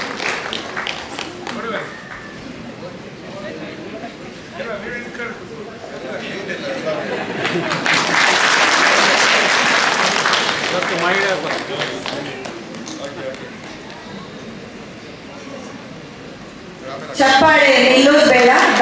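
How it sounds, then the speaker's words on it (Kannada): Audience applause at a Billava Association Bangalore Women's Day gathering, honouring a kabaddi-playing couple: dense clapping swells up mid-way, holds for a few seconds, then thins out beneath ongoing chatter and voices. "ಚಪ್ಪಾಳೆಯೊಂದಿಗೆ ಗೌರವವನ್ನು ಸೂಚಿಸೋಣ"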